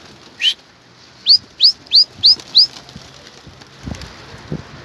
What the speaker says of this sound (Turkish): Arkadaşlar kuş gidiyor.